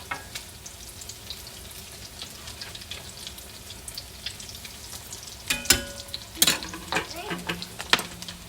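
Salmon patties bound with egg fry in a pan with a steady crackling sizzle, and louder clinks and scrapes of utensils break in toward the end.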